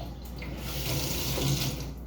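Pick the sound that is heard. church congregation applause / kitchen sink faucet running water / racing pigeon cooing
kitchen sink faucet running water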